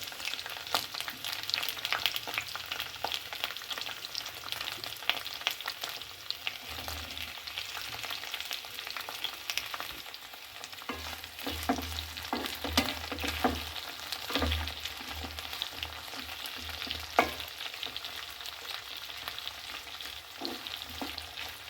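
Washed brinjal pieces drop into hot oil in a pan for a curry and fry with a steady sizzle, with occasional stirring and scraping sounds close by.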